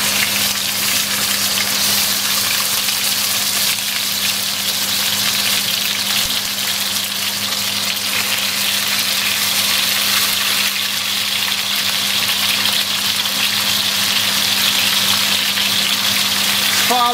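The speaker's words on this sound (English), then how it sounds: "as soon as the oil is hot, we're going to brown the fish" Fish browning in hot oil in a nonstick pan makes a continuous, even sizzle, with a cooker hood running as a steady hum underneath, heard up close with no speech.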